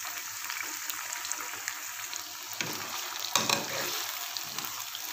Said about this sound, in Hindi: अब हम इसको अच्छी तरह से जो है वो फ्राई करते हैं।